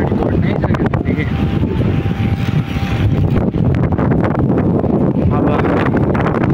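Strong wind outdoors in Dubai, strong enough to rock a car, buffets the microphone in loud, uneven gusts over a low rumble.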